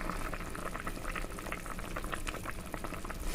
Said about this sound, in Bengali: তো এখানে দেখো ঝোলটা কিন্তু হয়ে গেছে, মানে ফুটে উঠেছে।